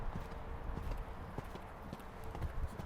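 Horse hooves clip-clopping in a steady, uneven rhythm during show jumping training in an arena, fairly close, with low rumbling background and no talk.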